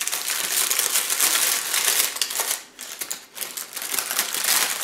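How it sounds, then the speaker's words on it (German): Baking paper held by paper clips is unwrapped from oven-baked trout, giving continuous crisp crinkling and rustling up close, loud and steady, with a short lull midway and no speech. "jetzt müssen wir natürlich beim Auspacken bei der Backofenversion aufpassen"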